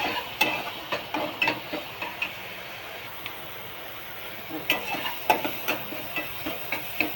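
Onion and tomato sautéing with a little salt in a pan, a low sizzle under repeated spatula scrapes and taps that come in short bursts, with a quiet pause in the middle.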